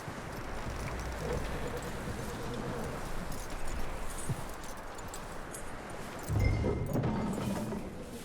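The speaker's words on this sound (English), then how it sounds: "That looks like a decent horse. You should keep him. Get that horse hitched." Horse hooves clip-clop steadily at a walk in the Red Dead Redemption 2 video game, fairly close, over a constant outdoor ambient bed with a brief heavier stir near the end.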